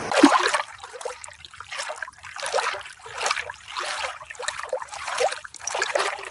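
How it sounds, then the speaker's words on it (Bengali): A boat is poled along a river, the punting pole dipping and splashing into the water in regular rhythmic surges, close and fairly soft, with no voices. "নৌকা চলছে, লগি ফেলার শব্দ হচ্ছে।"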